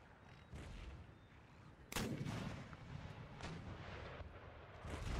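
Artillery and musket fire from a fortress wall during a siege battle in Empire: Total War, loud booming volleys and sharp cracks layered over a constant din of battle, no talking.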